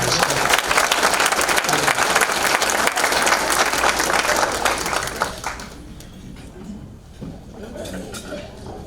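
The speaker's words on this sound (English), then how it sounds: "Would you please give a round of applause to Mr. John Morrison?" A crowd at the 2021 TWA Athletic Hall of Fame induction ceremony applauds inductee John Morrison, loud, dense clapping for about five seconds before it fades into a quieter room with faint clinks of dishes.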